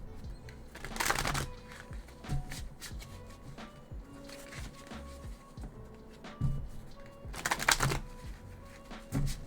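A deck of large oracle cards being shuffled by hand, two loud riffling bursts separated by quieter handling taps and shuffles, close and alone with no talk.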